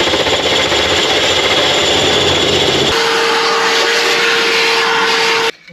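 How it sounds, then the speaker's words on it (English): A hole saw cuts through a countertop inside an RV, a loud continuous grinding rasp that shifts to a higher, steadier whine partway through before cutting off abruptly near the end. "I just got to get through the countertop, so we'll see what we can find for a hole saw."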